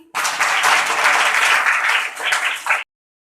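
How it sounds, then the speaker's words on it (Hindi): A classroom of children claps together for a few seconds in a lesson on strip multiplication. The burst of many small hands is loud and close, runs evenly, then cuts off abruptly into silence. "चलो बजाओ ताली"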